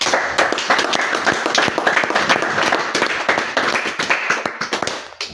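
A church congregation applauding, steady close clapping from many hands that keeps a loose rhythm throughout and thins out slightly toward the end.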